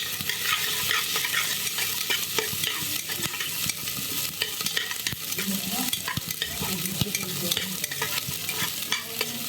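A chili and garlic mixture sizzling as it fries lightly in mustard oil for a Bengali village dish, continuous crackle with frequent stirring clatter, close and steady, no voices.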